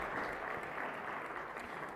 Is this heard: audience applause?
yes